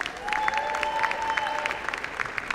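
Family and friends applauding at a business school graduation ceremony, a sustained patter of many hands clapping in a large hall with a few scattered cheers mixed in.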